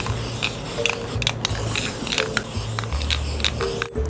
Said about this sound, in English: and just spray the entire thing.